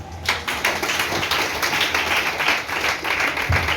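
A church congregation applauding to acclaim the Lord: steady, dense clapping from many hands that fills the space at an even level throughout, with no voices heard.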